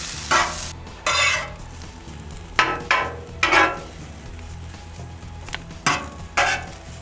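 Thinly sliced onions cooking in a pan for a venison Philly cheesesteak, with repeated bursts of stirring and scraping about once a second over a low steady sizzle, close and moderately loud.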